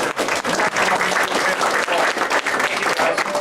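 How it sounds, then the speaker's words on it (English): Loud, close audience applause at a business meeting, dense clapping with a few sharper nearby claps, continuing throughout. "Give Terry and Jim a big hand of applause"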